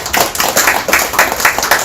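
Hands clapping in a seminar hall at a free-market research institute's founding seminar: a run of distinct, fairly loud claps in an even rhythm, roughly seven beats, with no talk over them.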